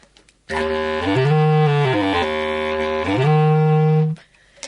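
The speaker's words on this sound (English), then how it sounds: "This is a bass clarinet." A deep, reedy bass clarinet plays a slow melodic phrase, stepping up and down, full and close, then stops.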